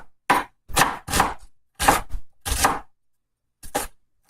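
Knife chopping onions on a board, several sharp clustered bursts of cuts with short pauses between them, close and distinct, with no talking.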